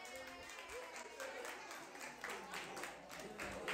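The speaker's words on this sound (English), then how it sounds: "Yeah, clap it up." A crowd claps and applauds at a live Chicago matchmaking show with twelve men and twelve women, a steady broadband patter of many hands, loud and close, with voices talking and shouting over it.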